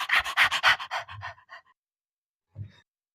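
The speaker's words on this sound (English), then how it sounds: "My dog's over here breathing on me now, wanting attention" A dog pants rapidly and heavily right beside the microphone in a quick run of breathy huffs. It trails off into silence, and one last short pant follows.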